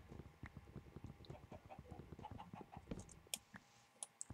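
A chicken in the Minecraft video game clucks in quick, irregular bursts over faint patter and small game sounds, quiet and close.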